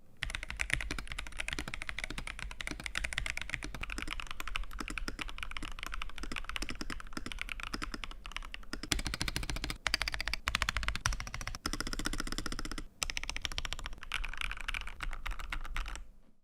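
Steady, quick typing on a heavy Razer computer keyboard, crisp close-up key clacks in a continuous run with a few brief pauses and no talking.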